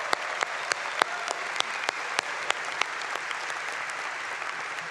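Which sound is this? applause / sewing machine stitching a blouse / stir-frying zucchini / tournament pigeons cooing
applause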